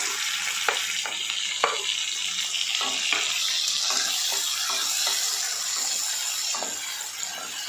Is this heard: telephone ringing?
no